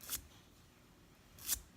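An emery board files across the edge of a fingernail in two quick, crisp downward strokes, close and fairly quiet, with a short pause between them.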